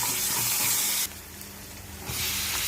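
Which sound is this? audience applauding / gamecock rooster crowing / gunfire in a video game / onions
onions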